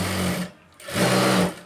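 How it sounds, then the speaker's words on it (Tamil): A sewing machine stitches a blouse seam in two fast, whirring bursts separated by a short pause, the motor running loud and close each time. "நான் ஒரு தையல் போட்டுக்கிறேன்"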